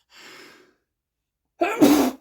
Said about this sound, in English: Go sneeze.